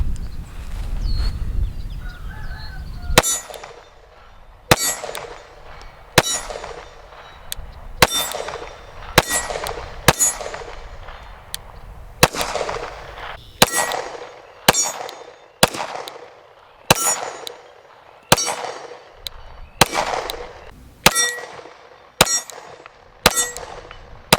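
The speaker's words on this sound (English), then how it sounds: "we're just going to ring some steel and see how well the Glock Templar runs" Pistol shots from a Glock 45 Templar at an outdoor range, each followed by the ringing clang of a steel target, about fifteen evenly spaced hits with decaying metallic rings, alone without talk.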